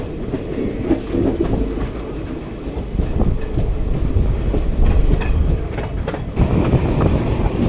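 A passenger train runs on rails through the Palakkad Gap, heard from inside as a steady, loud rumble with rhythmic clickety-clack of wheels over rail joints and faint squeals.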